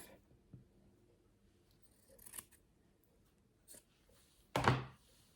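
Scissors cut a folded piece of felt in half, giving several quiet, separate snips and a soft rustle, the last cut louder and close, in an otherwise quiet room with no talking.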